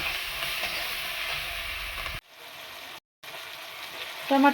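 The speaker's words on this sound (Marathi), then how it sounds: "आपण आता घालून घेऊ टमाटर थोडं नरम होईपर्यंत आपण याला असंच राहू देऊ" Tomatoes fry in a pan for a dry potato bhaji, a close, steady sizzle that cuts out abruptly twice before resuming with some stirring clatter.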